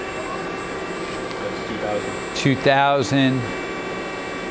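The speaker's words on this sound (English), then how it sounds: "Right now we're running the spindle." Spindle of a Southwest Industries TRAK DPM SX3 3-axis CNC bed mill, inverter-driven, running at about 2,000 RPM as a steady, even machine hum under a brief spoken remark.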